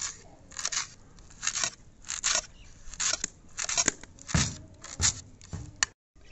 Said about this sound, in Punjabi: ਮੈਂ ਤਾਂ ਧਨੀਆ ਬਰੀਕ ਬਰੀਕ ਕੱਟ ਕੇ ਪਾਊਂਗੀ।